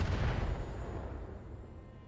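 Weapon volleys firing in the BattleTech video game, a heavy booming blast up front that rolls off into a long fading rumble, no voices over it.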